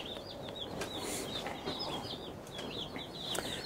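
Faint high chirps from young broiler chicks repeat over steady low farmyard background noise.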